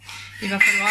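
A small child plays in a kitchen and knocks over dishes and utensils, giving a brief close clatter and clink of cutlery and pans while a person starts to speak.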